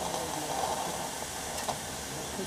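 Steam hisses steadily in the engine of an 1898 steam launch during warm-up, a continuous broadband rush close by with no clear speech over it.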